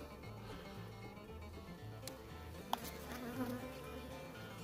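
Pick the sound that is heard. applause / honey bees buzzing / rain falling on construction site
honey bees buzzing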